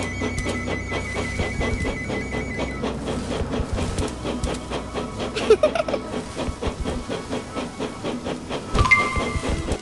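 A toy train rolls along its track in a Thomas & Friends game set on a tour through India, with a steady rhythmic clatter over background game music and a few brighter chimes near the end.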